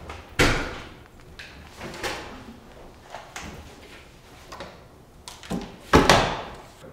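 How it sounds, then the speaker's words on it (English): Washing machine door in an Oregon State residence hall laundry room, shut with several close thuds and clunks spread across the clip, the loudest bang near the end, against a faint room hum. "Place your dirty clothes in the washing machine and shut the door."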